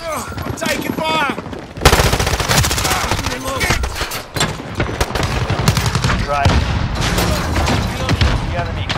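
Bursts of machine-gun fire and explosions in the Call of Duty Modern Warfare video game, loud and continuous, with shouted voices cutting through the firefight.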